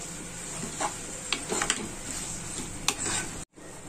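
Onion and stingray fish sautéing in a pan: a steady, soft sizzling hiss runs throughout, broken by occasional clicks and scrapes of stirring, then a brief cut to silence near the end.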